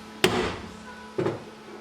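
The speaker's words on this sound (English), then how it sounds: "So here you can see I'm just hitting it with a hammer from the underside to bring up that corner" A hammer strikes a steel patch from the underside to raise a corner in an E30 BMW car floor pan, two sharp metallic blows about a second apart, close and clear.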